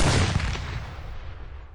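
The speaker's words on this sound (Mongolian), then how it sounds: "400 винтоо буу нэгэн зэрэг пин хийж аялагчдын чих хэдэн хором дүлгийрлээ" A volley of about four hundred rifles firing at once produces a single loud, close blast that decays into a long rumbling echo over nearly two seconds.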